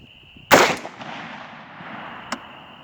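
One sharp, loud rifle shot of a cast 5.56 bullet loaded with 23 grains of Winchester 748, fired at 50 yards outdoors, with a rolling echo that trails off and a faint distant crack a moment later.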